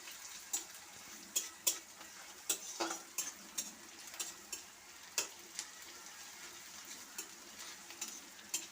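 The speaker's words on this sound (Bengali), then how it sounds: "এখন পেঁয়াজটাকে একটু লাল করে ভেজে নেব" Onions fry in a pan with a soft, continuous sizzle, punctuated by regular ticking spatters and light utensil taps; no one speaks.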